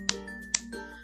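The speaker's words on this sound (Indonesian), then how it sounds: "Dua itu bunyi penggaris, dipukul." A ruler struck twice, giving two short crisp taps about half a second apart, close and dry over a quiet background hum.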